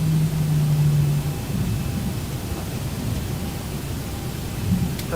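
Rumbling thunder from a storm cloud over the airport in the X-Plane flight simulator, a steady low roar with rain-like hiss and a swelling rumble at the end, no talking.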